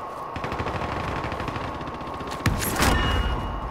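Rapid automatic gunfire from Call of Duty: Modern Warfare, a steady stream of close, loud shots for several seconds, then a heavier burst with a sharp crack partway through.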